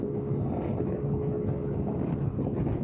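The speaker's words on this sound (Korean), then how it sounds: "바람이 많이 분다 많이 불어" Strong wind buffets the microphone outdoors on a road near Daemyeong port in Gimpo, riding on an XDV250 scooter, a steady loud broadband rumble throughout with no pauses.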